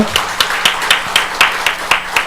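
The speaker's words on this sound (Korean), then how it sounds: "하나님께 영광의 박수 돌리겠습니다." Rhythmic clapping from a congregation at a Sunday church service, sharp unison claps about four per second, close and loud, with little else beneath them.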